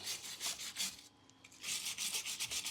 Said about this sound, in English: I'll wire brush these a little bit.